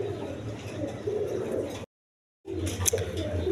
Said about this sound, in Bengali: এখানে এক পেয়ার চুয়াচন্দন কবুতর আছে